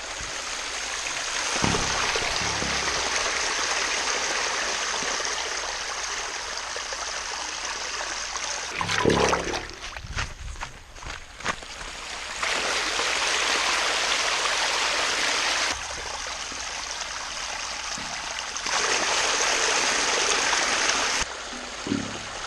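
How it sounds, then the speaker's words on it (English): Steady rushing water flows continuously through a model aqueduct, with a brief clattering interruption partway through before the flowing resumes, sometimes louder. "We're going to slow down the flow of the water through the aqueduct."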